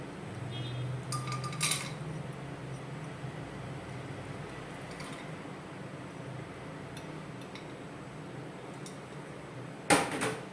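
Toor dal going into a metal pressure cooker: brief rattles and clinks of lentils and utensils against the pot, then a quieter stretch and a final sharp metallic clatter, all without speech.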